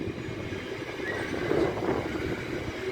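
LNER service from London King's Cross to Leeds running through Peterborough station, a steady broadband rumble and rolling wheel noise with a faint higher squeal, moderately distant and continuous.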